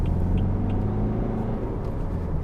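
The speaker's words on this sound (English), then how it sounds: "That diesel thrum." Diesel engine of a 2012 BMW 320d F30 saloon pulling away from a green light, heard from inside the car as a steady, fairly raucous low thrum that holds throughout with no talking.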